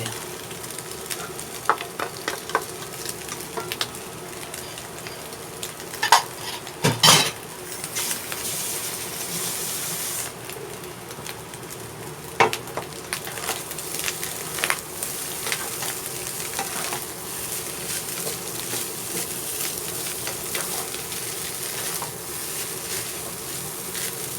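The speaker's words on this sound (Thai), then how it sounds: "ข้าวลงเลยค่ะเทข้าวลงไปเลย" Basmati rice is stir-fried with pineapple in a pan, a continuous close sizzle with frequent scraping and tossing clatters from the spatula throughout.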